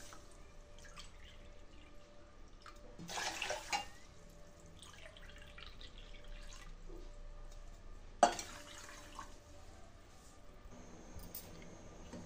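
Water is poured from a cup into a pan of sugar in two short splashing bursts, quiet and close, separated by faint drips and soft kitchen handling noises.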